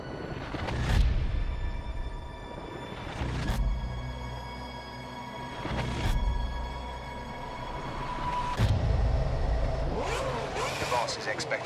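A Formula 1 car engine from the F1 2010 video game pulls away from the line, rising in repeated high-pitched revs through gear changes, heard under steady talk.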